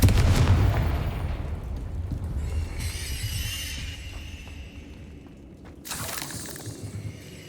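Repeated Confringo fire spells blasting in Hogwarts Legacy, a series of loud booming bursts with crackling debris, strongest at the start and again near the end over a rumbling battle backdrop.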